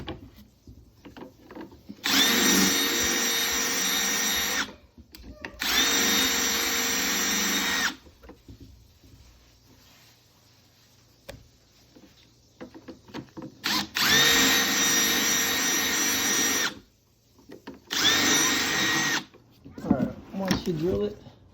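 A power drill bores into the ESL module on the steering column of a 2011 Mercedes-Benz C300, running in several loud bursts of a few seconds each with pauses between and someone talking throughout.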